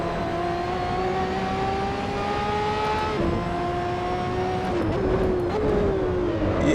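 Race car engines in Assetto Corsa career mode drone steadily at high revs, with pitch shifting through gear changes and other cars whirring nearby on track.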